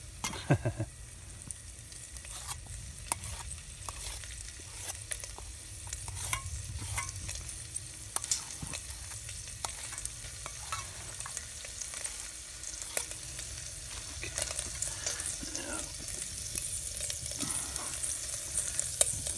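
A slice of Spam sizzles and fries in a Hungarian army mess kit, a steady close crackle with occasional scraping and stirring clicks, no voices.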